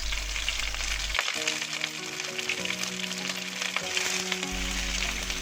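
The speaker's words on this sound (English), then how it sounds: "Turn on the fire and stir fry the cabbage first." Cabbage sizzles and crackles steadily in hot oil, a constant bright frying hiss with low tonal hum in the background.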